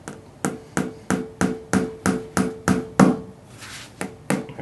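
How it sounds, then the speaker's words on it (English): A hammer driving a nail into a tubeless motorcycle tire, about a dozen sharp, evenly paced blows with a ringing metallic tone, close and loud. "I brought my hammer"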